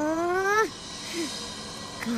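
An animated cartoon cat lets out a loud, drawn-out meow up close, followed by two short softer mews.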